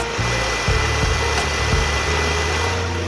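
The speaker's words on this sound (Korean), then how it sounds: "엔진은 상당히 일정하게 잘 들려지고 있습니다" BMW 530i with MSP package idling with the hood open, a steady, even low engine hum close by, a faint light ticking over the drone and no talk.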